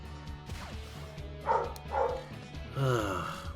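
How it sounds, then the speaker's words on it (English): An indoor dog barks several times, a few quieter woofs and a louder final bark, somewhat distant over a low steady background hum. "Why are you barking?"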